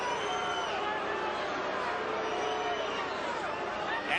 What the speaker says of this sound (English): And the boo birds come out in the crowd.